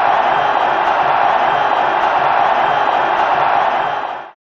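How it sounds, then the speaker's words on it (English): A large cricket crowd roars and cheers continuously after Nepal's win, a dense, loud wall of voices that holds steady and then cuts off abruptly. "the crowd are delirious"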